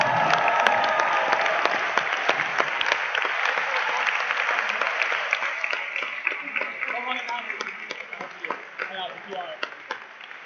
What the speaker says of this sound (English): We're not done applauding yet.